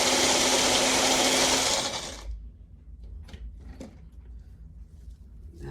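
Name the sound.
coffee beans being crushed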